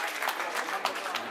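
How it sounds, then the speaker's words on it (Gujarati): An audience at a community mahotsav clapping with raised hands for a generous donor: a brief, dense burst of many hands clapping together, fairly faint and heard alone. "ऊंचा હાથની તાળીઓ જો જેણે આટલું મોટું દાન કર્યું છે"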